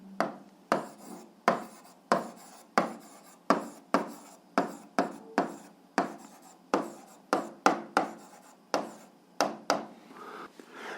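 Writing out problem conditions on a surface, heard as a close run of dry, scratchy strokes and taps, each starting sharply and fading, repeated about twenty times in an irregular rhythm with short pauses, no talk.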